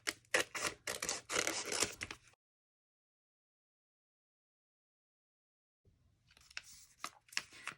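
Tape is pulled off a roll and pressed onto a paper spider wing in short crackling bursts, close and quiet, with a long silent gap between two sets of tearing and sticking sounds.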